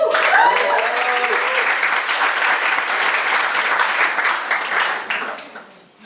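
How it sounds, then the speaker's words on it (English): A crowd at a poetry cafe applauds loudly for a performer, with a few whistles and cheers at the start before the clapping tapers off near the end. "Round of applause for The Next Level."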